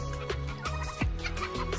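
Chickens on a farm during evening chores, with a dog nearby trying to herd them back into their pen, making soft, close clucks in short bursts over steady yard noise.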